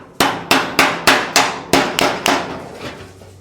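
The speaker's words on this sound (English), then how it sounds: "I'm gonna use the heavier ball peen just to get this kind of" A heavy ball peen hammer beats a creased, wrinkled front fender of a 1937 Zephyr in a home garage, striking about eight loud, close metallic blows in a steady rhythm, each ringing briefly before fading, with no talking.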